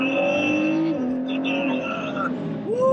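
A supercharged 2021 Ford F-150 pulling hard on a twisty road, heard close with a rising engine and supercharger whine that holds, drops at a shift, then climbs again, steady and loud.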